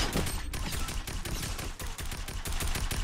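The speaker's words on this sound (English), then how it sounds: "Let's test out this little tac assault rifle one time." A tactical assault rifle fires in rapid bursts in Fortnite, loud dense gunfire that rattles almost continuously with only brief gaps.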